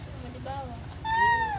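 A kitten meows twice, a short cry and then a longer, louder rising one. A steady low rumble and some background talk run underneath.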